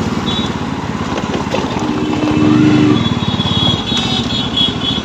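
An N250 motorcycle ridden along a road: a loud, steady engine drone with dense rumble and wind rush, swelling briefly midway, continuous throughout with no speech.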